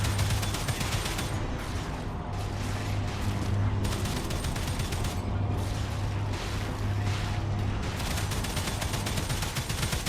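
Gun turrets firing in the StarRupture video game, rapid continuous bursts of mechanical gunfire with a steady low hum beneath, loud and sustained with brief gaps.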